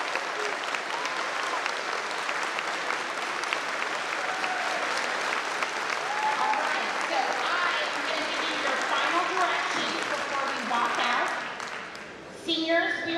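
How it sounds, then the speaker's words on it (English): Sustained applause from a school crowd honouring the graduating class of 2024 at an awards ceremony, dense steady clapping for about twelve seconds before tapering off near the end. "Let's give the class of 2024 one more round of applause."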